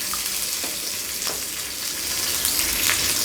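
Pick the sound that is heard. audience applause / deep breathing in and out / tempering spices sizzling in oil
tempering spices sizzling in oil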